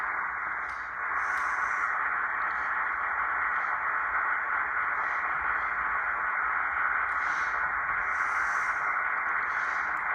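Steady shortwave radio static hisses on the 15 meter band of an SBE-36 receiver, a constant even noise with faint crackles and no signal coming through.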